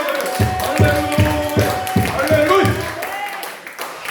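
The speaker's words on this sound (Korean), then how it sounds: "우리 주님께 박수로 영광을" Congregation in a church prayer service clapping together in a steady rhythmic beat, about eight claps, with a voice speaking over them.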